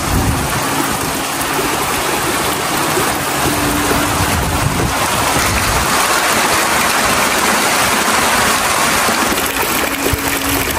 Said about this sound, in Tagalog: Habang kami po ay nag-aantay pang tumila ang malakas na ulan